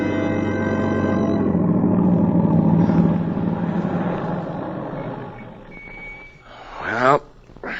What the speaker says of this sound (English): Tom Stevens and Helen Benson drive up to the boarding house after their picnic